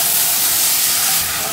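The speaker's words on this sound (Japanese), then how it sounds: "鍋肌から醤油を流し入れて" Garlic soy sauce poured down the side of a hot wok onto tuna fried rice seasoned with salt and pepper, giving a loud, steady steaming sizzle and hiss that fades slightly at the end.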